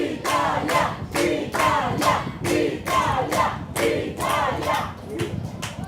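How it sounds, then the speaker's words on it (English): Crowd at a European Open Touch Championships 2025 touch rugby match cheering and chanting for Italy in loud rhythmic surges, with steady clapping and pounding beats under the noise. "The crowd getting behind Italy here."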